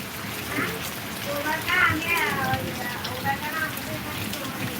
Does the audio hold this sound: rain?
yes